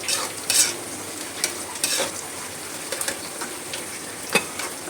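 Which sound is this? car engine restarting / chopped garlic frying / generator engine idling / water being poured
chopped garlic frying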